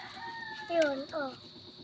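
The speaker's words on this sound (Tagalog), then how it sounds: "Tatlo naming inahin." Hens give two drawn-out, rising clucking calls in quick succession, close by, over a quiet background.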